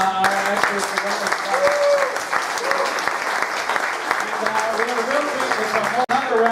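Steady audience applause at a comedy class show, continuous clapping from a room full of people with scattered voices and whistles mixed in, ending in a brief cutoff near the close.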